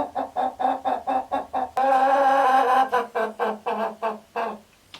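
Chickens squawk and cluck repeatedly in loud rhythmic bursts, with one long sustained squawk in the middle, close by and without talk.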